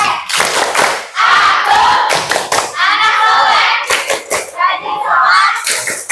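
Children clap in rhythm to the tepuk anak soleh chant in an Indonesian classroom. Bursts of loud, close hand claps sit under their chanting voices.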